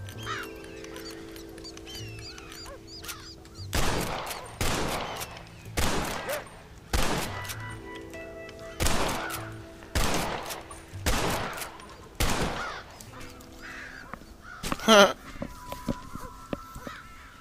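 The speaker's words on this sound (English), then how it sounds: "That last crow just took like millions of bullets." Rapid bursts of gunfire from the video game Red Dead Redemption, aimed at crows: about a dozen loud, sharp shots spaced irregularly over game music and ambience, ending with a brighter burst near the close.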